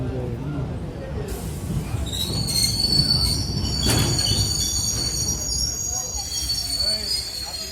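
Train running on rails toward Bangalore Airport, a steady rumbling roll with high, sustained wheel squeals ringing over it, close and continuous throughout.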